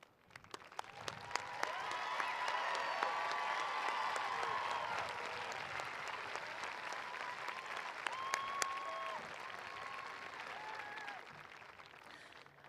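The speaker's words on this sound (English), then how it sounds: "Please stand at this time so we can applaud you and thank you for your service" Sustained applause from a high school graduation audience honoring graduates bound for military service, a dense wash of clapping lasting throughout, with scattered cheers and whistles rising above it.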